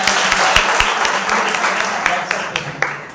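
Sunday church service audience giving a hearty round of applause for a member, dense continuous clapping with some sharper individual claps popping out, close and sustained, with a faint voice underneath.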